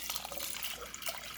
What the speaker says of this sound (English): We're going to add enough water to cover it.